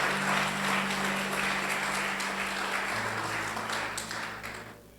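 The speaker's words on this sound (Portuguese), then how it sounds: "Aplauda o Senhor nessa noite com toda a intensidade do seu coração." Church congregation applauding the Lord during an evening worship service, a steady wash of clapping from a crowd that holds for several seconds with organ or keyboard tones underneath, then fades near the end.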